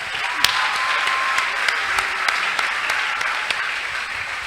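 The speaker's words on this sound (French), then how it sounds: "Est-ce qu'on peut acclamer pour les femmes?" A live talk-show audience applauds for the women, with sustained, dense clapping and a few sharper individual claps standing out, steady and fairly loud throughout, with no talking over it.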